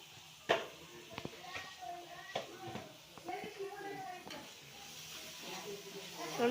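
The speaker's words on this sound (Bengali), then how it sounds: "নেড়ে চেড়ে এগুলোকে ভালো করে মিশিয়ে নিতে হবে। এখানে পেঁয়াজগুলোকে আমাদের লাল লাল করে ভেজে নিতে হবে।" Onions frying in a pan are stirred and mixed, giving soft sizzling with scattered scraping knocks of a utensil, heard faintly beneath a person talking throughout.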